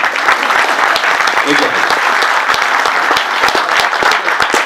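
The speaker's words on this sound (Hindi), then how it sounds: "ताली बजा लीजिए कससे।" Loud, close, sustained clapping from an audience at a film and television academy batch launch, a thick continuous patter of many hands with sharp individual claps standing out.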